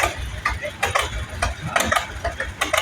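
A 1937 John Deere B tractor rolling by in a pioneer farm show parade, its two-cylinder engine popping in an uneven chuffing rhythm at close range, with people talking nearby.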